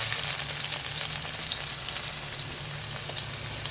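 Onions and garlic frying in a pan for poha, a soft steady sizzle with faint crackles throughout and no voices.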